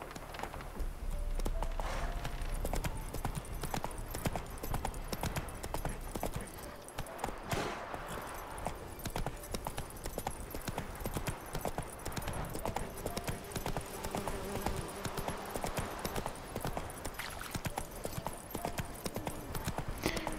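Roach the horse gallops in The Witcher 3, a steady, fairly loud run of hoof clip-clops over game ambience, with a brief pause in the hoofbeats partway through.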